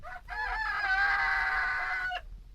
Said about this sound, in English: That was a rooster.